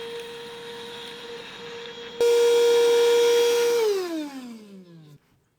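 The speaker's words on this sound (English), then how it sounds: "I'm going to have a vacuum cleaner and we'll clean the worst of it up" A vacuum cleaner motor hums steadily while sucking up shavings from a 1950 Nash engine bay, jumps louder as suction engages, then winds down in pitch as it is switched off.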